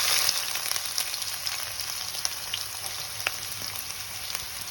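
Onions frying in hot oil with garam masala in a pan for a thelagapindi curry, a steady close crackling sizzle with small pops throughout, no talk.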